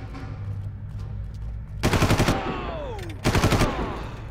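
Automatic gunfire from the Far Cry video game, two loud bursts of rapid shots with a low game ambience between them, the second burst shorter.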